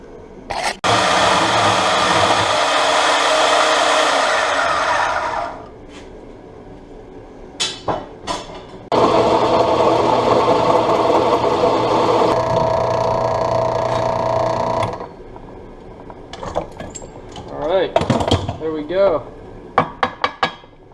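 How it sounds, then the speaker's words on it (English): Metal brackets for a heim joint mount on a Mustang drift car being cut and drilled, with two long loud bursts of grinding or cutting noise separated by short clanks and knocks of handled metal parts. "So I'm going to get this cut out and drilled, and then weld this little assembly together."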